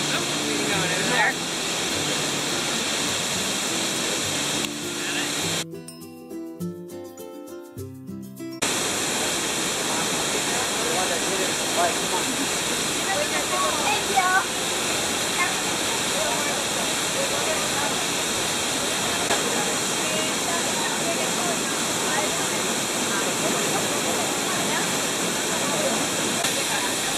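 A waterfall in Baños, Ecuador roars as a constant broadband rush up close, briefly cut by a few seconds of near silence before the steady wash returns.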